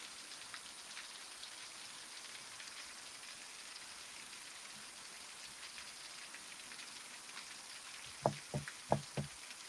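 Steady rain falls during a severe June thunderstorm, a soft, even hiss heard from indoors, with a few sharp knocks near the end.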